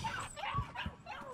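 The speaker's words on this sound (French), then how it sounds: "Oh non, il y avait des petits chiots." Puppies whimper and yip in the horror video game Layers of Fear 2. The soft, plaintive cries come in short bursts and sound quiet and somewhat distant.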